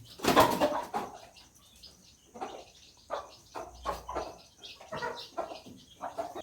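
Backyard chickens, including a white hen, make short, soft, scattered clucks and calls, one louder burst at the start followed by fainter intermittent sounds.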